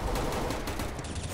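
Gunfire rattles in the video game CS:GO, a rapid string of sharp shots in a fast automatic rhythm, moderately loud and steady throughout.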